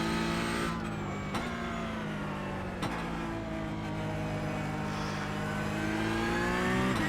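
A Porsche Cup race car in iRacing lapping the Nordschleife, its engine droning steadily with rising and falling pitch through gear changes, loud and continuous with no talk.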